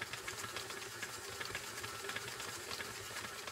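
A stand mixer runs steadily with a silicone-edged beater blade scraping the bowl while mixing snickerdoodle dough, a continuous close motor whir with faint rhythmic rattling and no talk.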